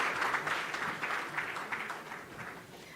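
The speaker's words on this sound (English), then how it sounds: "Give a big round of applause, everybody, for all the panelists and our moderator." An audience claps for the panelists and moderator at a conference session on sustainable mining. The applause is faint and distant, a steady patter that slowly fades over three seconds.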